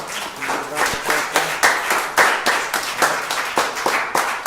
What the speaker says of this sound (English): I want to give a round of applause for all of us